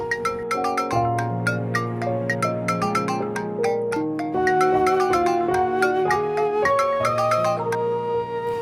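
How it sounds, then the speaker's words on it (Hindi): Mobile phone ringtone plays as a melodic chiming tune of bright plucked notes, fairly loud and continuous for several seconds with no voices over it. "सुहा, तुम्हारा फोन बज रहा है।"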